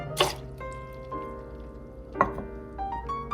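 Lime juice and apple cider vinegar poured into a bowl for an oil-free vegan mayo: two brief liquid splashes and drips, close and fairly quiet, over faint ringing tones and a low background hum, with no talking.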